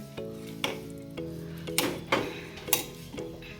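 A spoon stirs spiced masale bhat rice in a pan, giving several soft scraping strokes and light clinks over a faint sizzle, close and quiet, no talking.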